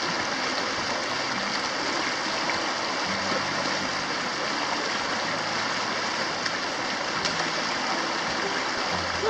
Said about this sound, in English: So we just came across another river here that we're gonna have to go over.